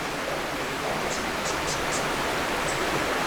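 Creek water flowing over rocks beside a deep rock shelf, a steady broadband rush that stays constant and close throughout, with no voices.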